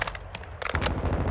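Rapid automatic gunfire from a Call of Duty Modern Warfare 2 team deathmatch, a dense burst of close, loud shots that thickens into heavier overlapping fire toward the end.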